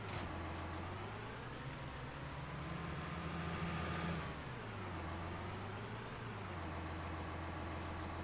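Tractor driving in the video game Farming Simulator 19: a steady, loud engine drone with a rising then falling pitch as it revs, then settles again, continuous and alone with no talk.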